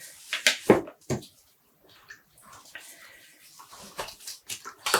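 Hand-dyed black yarn is lowered back into a rinsing tub of water, giving a few close, sloshing splashes and drips, followed by quieter trickling and light water movement.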